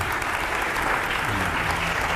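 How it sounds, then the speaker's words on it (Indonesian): Audience applause after a university talk show session, a steady dense clapping wash that holds at even loudness for the full span, with faint voices beneath. "Tepuk tangan dulu"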